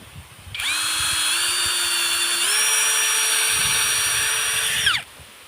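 A power drill whines steadily for about four seconds while drilling into a clogged water spout's hole, its pitch stepping up partway through before it stops.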